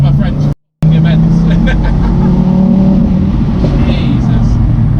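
A 400bhp Ford Focus RS accelerates hard, its engine note droning loud and close from inside the cabin, with a brief dropout early on and voices talking over the roar.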